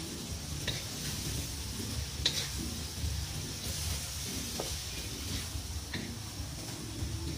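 Vegetables for pancit stir-fry in a hot pan, a steady close sizzle broken by scraping stirs and a few sharp utensil clicks against the pan, with no talking.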